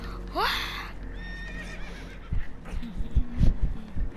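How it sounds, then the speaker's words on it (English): Spooked horses on a boat in Red Dead Redemption 2 whinny in a loud rising neigh, followed by heavy thumping hoof clops and stamping and a low snort, up close. "Horses are spooked, and we're taking on water."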